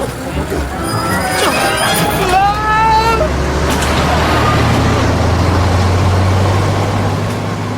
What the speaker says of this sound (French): Mais où ce camion va-t-il m'emmener maintenant?